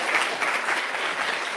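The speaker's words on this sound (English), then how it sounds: "Applause for the lady" Steady applause from a lecture audience, dense overlapping clapping holding at an even level throughout without voices.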